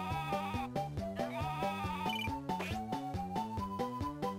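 Sheep bleat in a retro video game, rhythmic synthesized tones pulsing steadily under game music, moderately quiet and continuous with no talking.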